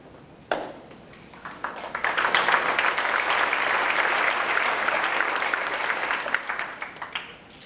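Sustained applause from an audience at a middle school awards banquet, a dense wash of many hands clapping that swells quickly after a sharp opening clap and holds steady before thinning out.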